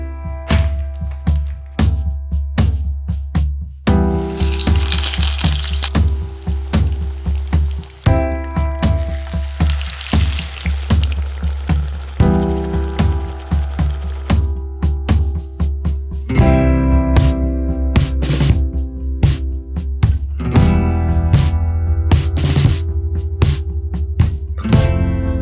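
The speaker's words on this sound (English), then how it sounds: "So now let's go ahead and fry it and make our expensive burger." Vegan meat burger patties, Beyond Meat and Indian brands, fry in a pan with a steady close sizzle, broken by occasional soft thuds, all under continuous background music.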